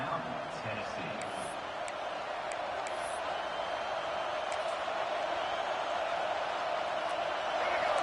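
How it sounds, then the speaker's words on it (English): Stadium crowd at a football game roaring steadily as the defense tries for a fourth-down stop, a dense sustained wall of cheering that builds slightly toward the end, with a commentator's voice over it. "This crowd busting the decibel meter and trying to will a 4th down stop."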